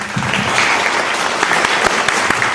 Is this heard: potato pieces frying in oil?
no